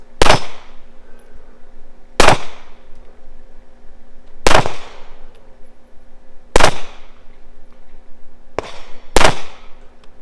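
Five sharp gunshots at roughly two-second intervals, each ringing off a steel spinner target on a practical shooting stage, loud and close with a brief metallic decay between shots.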